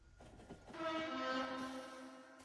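A train in the Factorio video game sounds a sustained tonal horn with a harmonic chord, starting after a short rumble and holding for over a second before fading.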